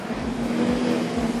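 Junior Sedans race cars at Maryborough Speedway dirt track roar steadily with a sustained engine drone, their motors holding a continuous hum at fairly loud level without speech.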